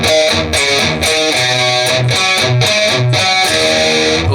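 Distorted electric guitar playing a palm-muted riff, with chugging muted low notes pulsing rhythmically between brief sustained chords, loud and upfront with no talk.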